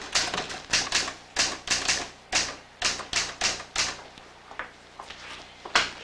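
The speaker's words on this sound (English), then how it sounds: "Typewriters." Several typewriters clatter away in an office, with bursts of rapid key strikes and carriage thumps in an uneven, overlapping rhythm, fairly close and steady throughout with no voices.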